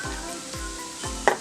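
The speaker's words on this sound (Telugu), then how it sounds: "అల్లం పేస్ట్ కాస్త వేగనివ్వాలి." Ginger paste fries in a tempering with hot oil for a restaurant-style mint paneer pulao. A close, loud sizzle sounds with three quick stirring scrapes and a short clink near the end.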